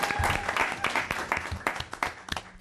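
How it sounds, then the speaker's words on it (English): Audience at a city council meeting clapping in a burst that starts full and then thins into scattered, uneven claps and sharp individual hits, heard close in the room. "Clap like your favorite team just won."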